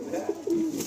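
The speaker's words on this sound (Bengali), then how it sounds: "বাহ, এটা গুন্টুরের পায়রা।" A Guntur pigeon coos in a loft, a couple of low, rolling throaty calls close by, the second drawn out.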